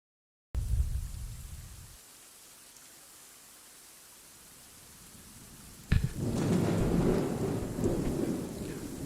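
Thunderstorm sound effect for a night-time werewolf party game: steady rain hiss with a low rumbling roll of thunder at the start, then a sharp, close thunderclap followed by heavier rolling rumble and rain.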